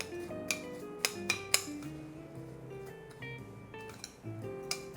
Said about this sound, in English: we're taking 3 tablespoons of breadcrumbs and mixing a tablespoon of melted butter into it